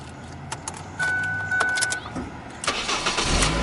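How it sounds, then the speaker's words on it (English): A 2007 Ford Focus engine cranks and catches after keys jangle in the ignition, settling into a close, loud idle. "start the car up"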